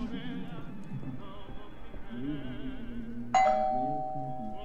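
A doorbell chimes in the video game Twelve Minutes, a single bright ding-dong that rings out clearly and fades after a voice speaks over a quiet background.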